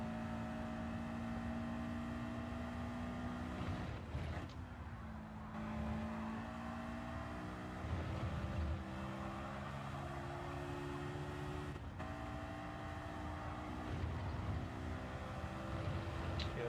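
A Honda S2000 race car in Gran Turismo 7 holds a strong, steady engine note, with clear gear-shift drops in pitch twice before revving back up, close and continuous.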